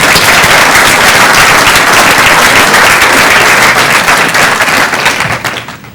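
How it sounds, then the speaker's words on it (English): Loud, dense applause from a workshop audience applauding themselves, continuous crackling claps filling the room before tapering off near the end. "How about some applause for yourselves?"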